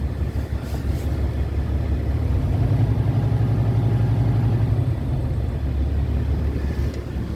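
A Volvo engine runs at a steady idle, a low, continuous mechanical hum with a faint tonal whine, close by and alone.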